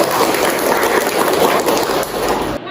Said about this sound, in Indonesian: Terima kasih Suci, kita berikan tepuk tangan.